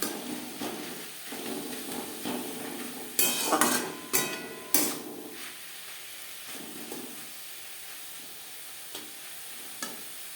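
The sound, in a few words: stir-frying pea leaves in a pan over high-medium flame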